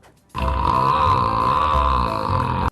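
One long, loud burp sounds right up close, a continuous throaty rumble that holds for over two seconds before stopping abruptly.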